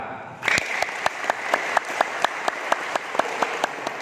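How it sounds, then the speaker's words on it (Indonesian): Applause from an audience at an Indonesian political talk event about Bawaslu starts abruptly and runs steadily, with sharp individual claps popping out over a dense wash of clapping, fairly close and without talk. "Jadi saya minta teman-teman tepuk tangan untuk Bawaslu dulu."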